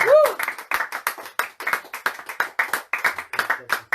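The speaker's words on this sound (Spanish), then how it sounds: "Aplauda al Rey." A church congregation claps steadily in irregular bursts, loud and close, with a voice calling out briefly over the start.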